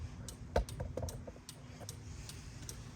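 Turn signal relay of a 2005 Chevy Silverado after a hyper flash fix, giving soft, evenly spaced ticks in a quiet cab, one sharper click near the start and the steady clicking faint but clear.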